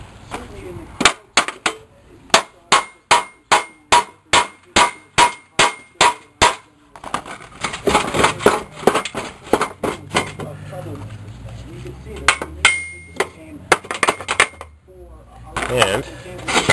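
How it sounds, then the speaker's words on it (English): A hammer strikes metal repeatedly in a fast, steady series of sharp clangs, then keeps banging more irregularly with scraping and clatter in between. "Here's a hammer."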